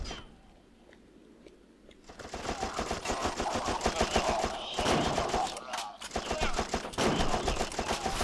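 Rapid automatic gunfire rattles in You Are Empty, a shooter game, dense and continuous bursts after a quieter opening, with a voice talking over the shooting.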